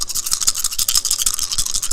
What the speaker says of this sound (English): sound of the dice. Clacks. Clacks.